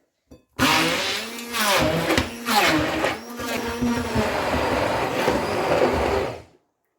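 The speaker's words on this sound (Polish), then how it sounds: "W pierwszym kroku rozdrabniamy banany." An electric blender mashes three ripe bananas for banana bread, with a loud, close motor whir that surges and dips for about six seconds before cutting off.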